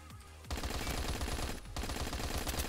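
Rapid automatic fire from an AG-3 rifle in the Phantom Forces video game, dense sustained bursts with a brief pause partway through, loud and close throughout.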